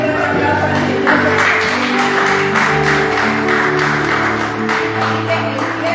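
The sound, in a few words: congregation applauding the Lord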